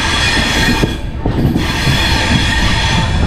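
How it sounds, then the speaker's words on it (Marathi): A Mandovi Express train's wheels squeal loudly as it rounds a big curve on the rails, a sustained screech over rumbling, clattering carriages that stays close and constant throughout, with no one speaking. "त्या टर्निंगमुळं हा चाकांचा आवाज येतो आहे"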